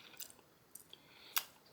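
Quiet close-up chewing of crunchy blanched freeze-dried grapes, with a few sharp, brittle crunches scattered over under two seconds and a louder bite near the end, no talk.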